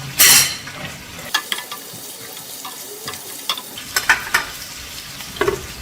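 Sliced garlic fries in a pan, a light sizzle punctuated by scattered clicks and scrapes of a utensil against the pan, opening with a louder splash of hot oil.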